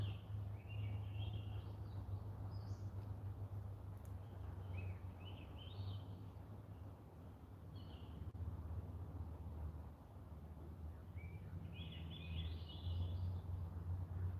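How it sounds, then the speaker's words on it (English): Birds singing outdoors in the afternoon, scattered faint chirps and short song phrases over a steady low hum and soft background noise, quiet and distant. "The birds sound nice."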